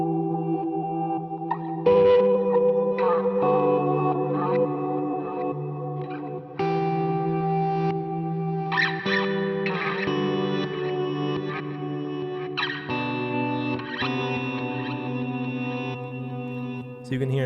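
Clean electric guitar chords and melodic notes played through a Line6 POD GO preset with chorus, echo and reverb, sustained tones swelling and ducking, played alone and close.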